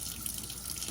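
Water pouring from a tap into a sink while celery is washed, a steady close splashing stream with a bright hiss, even in level and heard alone.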